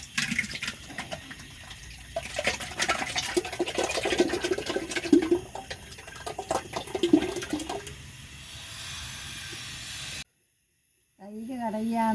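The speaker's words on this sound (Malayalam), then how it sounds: "അപ്പോൾ ഇത് ചെമ്പിലേക്ക് ഒഴിച്ചെടുക്കുകയാണ്." Curd being poured into a copper vessel for traditional ghee-making, a continuous splashing liquid pour lasting several seconds, followed by a brief silence and then a voice speaking.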